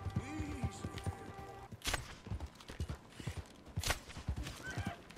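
Horse hooves clatter in a fast gallop in Red Dead Redemption 2, dense rapid clip-clop beats with a neigh and creaking tack, close and loud beneath background game sounds and occasional voices.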